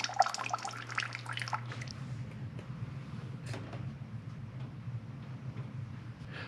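Water dribbling slowly from the drain of an Avalon bottom-loading water cooler, a soft trickle with faint drips, loudest at the start and then thinning to a low steady dribble, heard alone without talk.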